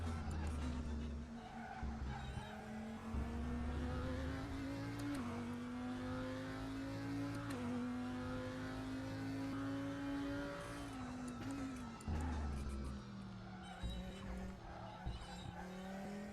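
A race car engine in the RaceRoom racing game, among cars such as the Porsche 911 GT2 RS Club Sport and Audi R8 GT2, drones and revs steadily with shifting pitch and tire squeal, under occasional talk.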